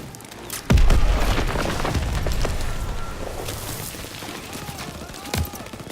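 A grenade explodes in the Call of Duty WWII video game with a heavy boom amid ongoing gunfire and battle noise, followed by more distant blasts and shots.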